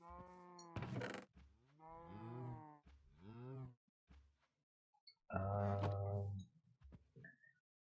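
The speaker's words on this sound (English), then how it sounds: "One thing I did do here is I got a couple more cows." Cattle lowing in the Minecraft FoolCraft modpack: several separate moos with rising and falling tones, one long loud low call near the end, each alone with short gaps of silence.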